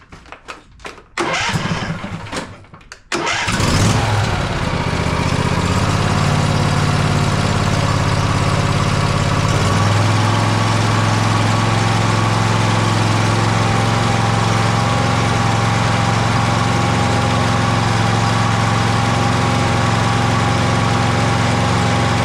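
Husqvarna YTH2348 riding mower engine cranks and catches after a few seconds of clattering, then settles into a loud, steady, close idle that drones on without talk.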